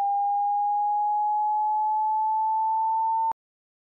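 A pure electronic beep tone generated in Pure Data sounds as a single steady, clean sine tone held for just over three seconds, then cuts off abruptly with a tiny click, leaving silence.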